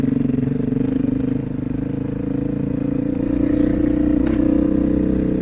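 Dual sport motorcycle riding along a Colorado road, its engine droning steadily and loudly throughout with constant wind and road noise, close to the rider and with no talking.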